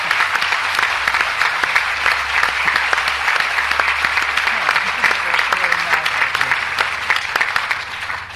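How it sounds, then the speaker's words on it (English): An audience applauds a prize-winning nonfiction author at a history talk, sustained crisp clapping from a full room that swells and then thins toward the end. "I think we should give her a round of applause"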